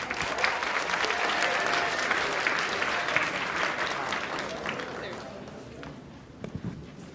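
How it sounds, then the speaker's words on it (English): Audience applause at an evening museum event, a dense sustained clapping from a crowd that gradually thins and fades toward the end, with some voices mixed in. "Let's give it a round of applause."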